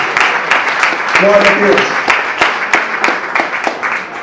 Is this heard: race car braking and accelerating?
no